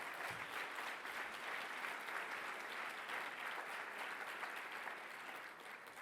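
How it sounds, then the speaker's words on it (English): Sustained applause from an audience at a community organization's 75th anniversary celebration honoring champions, steady and dense for the full length, tapering slightly near the end. "Let's give them a round of applause"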